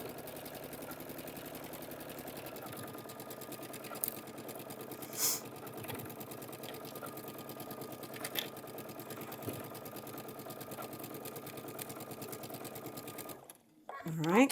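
A sewing machine stitches quilt pieces in dark blue thread, a steady fast mechanical whir with a close rhythmic needle clatter that runs almost nonstop, then stops near the end; a voice talks quietly over it.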